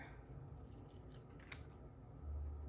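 Scissors cutting paper to make a banner for a card, a few quiet close snips over soft background noise, with no talking.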